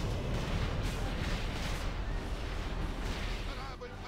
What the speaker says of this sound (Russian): Корабль под обстрелом.